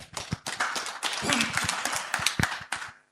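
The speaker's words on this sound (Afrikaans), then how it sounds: "Kom ons gee vir hom 'n lekker hande klap." A church audience gives a warm round of hand clapping, a few seconds of uneven, fairly close claps that taper off quickly.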